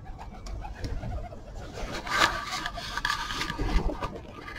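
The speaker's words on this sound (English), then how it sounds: "Oh no, all the pigeons are here." Pigeons coo outdoors, soft throaty calls rising and falling over a steady ambient bed, close and moderately loud with a rustle or two and no talk.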